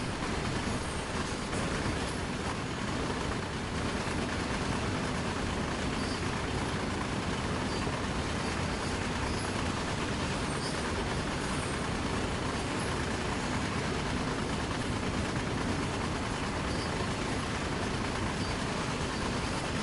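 A train runs along the West Somerset Railway in Train Sim World, giving a steady, loud, unbroken rumble and roar of wheels and engine for the whole stretch.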